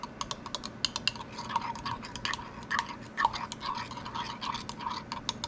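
A spoon scrapes and clicks quickly and continuously against a container while green pumpkin soft plastic bait mixture is stirred. The sound is close and fairly quiet, with no voices.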